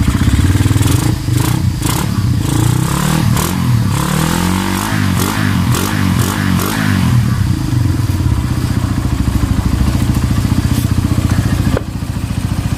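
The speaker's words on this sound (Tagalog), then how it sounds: "so yan na mga paps, yung tunog ng makina ni Paps." A nearby Suzuki Raider 150 motorcycle engine idles with a rough, throbbing rhythm and revs up and down a few times, loud and continuous throughout.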